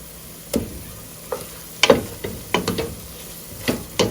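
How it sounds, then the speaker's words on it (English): Coconut cream going into a pot for cook-up rice with smoked herring: a few short clatters and splashes with a light sizzle underneath, spread across a few seconds. "now I'm gonna add my coconut cream"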